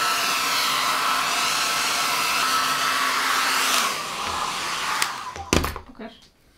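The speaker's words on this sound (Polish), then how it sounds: "Jakby to profesjonalna suszarka." A cheap professional-style hair dryer blows with a steady, loud whoosh for about four seconds, then its pitch drops as it is switched down and off, leaving brief clatter and handling noise.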